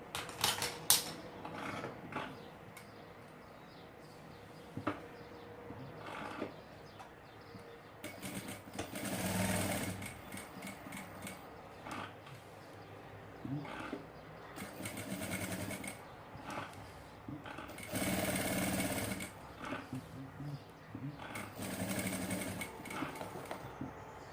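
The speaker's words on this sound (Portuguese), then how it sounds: "Agora nós vamos na máquina e costurar em cima deste retângulo." A sewing machine stitches across a rectangle of fabric in short whirring bursts with clicking mechanical rhythm, pausing between runs, fairly quiet and close.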